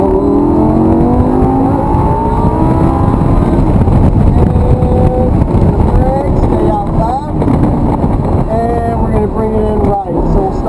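A Lamborghini LP560-4 accelerates at full throttle on a track. It gives a loud, close, roaring engine note with rising pitch through the gears and a brief shift dip, while wind rushes past and a voice talks over it.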